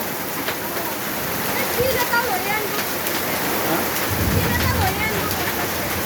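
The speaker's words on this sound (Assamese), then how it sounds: "ইমান বৰষুণ হাৱা, ভয় লাগি যায়" Dense, roaring rain pours steadily with gusty rumbles of wind, and faint voices murmur underneath the downpour.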